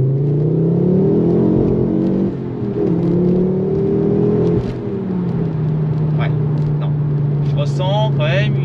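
A Ford Focus RS 500 accelerates hard in second gear. The engine note climbs steadily, briefly dips as the revs fall back, then climbs again into a sustained drone, heard loud from inside the car, with brief voices near the end.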